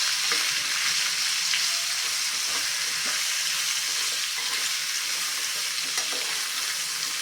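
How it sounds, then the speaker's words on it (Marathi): Chopped bottle gourd stirs and sizzles in a hot pan with garlic, a steady close frying hiss with faint scraping throughout, no voices. "हा बारीक चिरून घेतलेला जो भोपळा आहे दुधी भोपळा हा घालून घेऊया मिक्स करून घेऊया छान"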